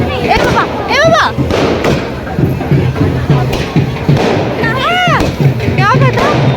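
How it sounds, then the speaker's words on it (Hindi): Firecrackers set off at a wedding, a run of loud thumps and sharp bangs with whistling streaks, close by and mixed with people talking and calling out. "पटाखा जला दिया वहीं पे है"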